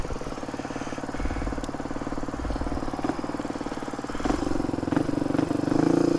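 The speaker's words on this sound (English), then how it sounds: "Honda CR250R. Beautiful bike." A Honda CR250R motocross bike runs steadily nearby, its two-stroke engine putting out a continuous buzzing drone with slight rises in revs toward the end, with no talk.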